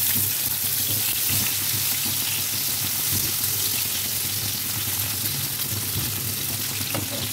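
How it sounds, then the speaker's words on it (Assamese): Onions frying in oil with mustard seeds give a loud, continuous sizzling hiss that crackles steadily all the way through, with no voices. "অলপ ভাজি লওঁ"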